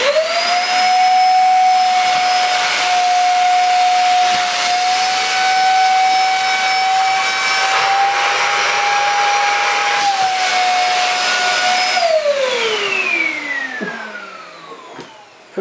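A Goblin Stick handheld vacuum cleaner runs with a loud, steady motor whine and airy hiss, then spins down with a falling pitch as it is switched off near the end.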